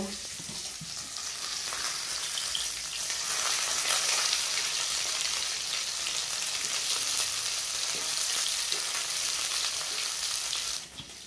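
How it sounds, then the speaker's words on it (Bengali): Rohu fish pieces fry in oil in a pan, giving a steady, dense sizzle that rises slightly and stays loud and close throughout with no talk. "দেখো বন্ধুরা মাছটা কিন্তু ভাজা হয়ে গেছে লাল লাল করে"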